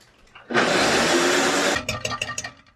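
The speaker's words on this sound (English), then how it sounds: "we're just gonna turn this on, get it all juzzed up, all mixed really, really well" A blender whirs loudly for about a second as it mixes keto egg crepe batter, then cuts off, leaving a few rattling, clattering knocks as it winds down.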